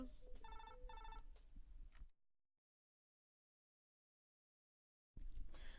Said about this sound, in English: Okay, the phone is ringing.